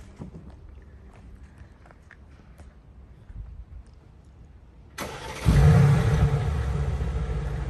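A BMW M4 starts up after quiet footsteps and faint rustling: the engine fires with a sudden loud catch, flares briefly, then settles into a steady, fairly loud idle close by.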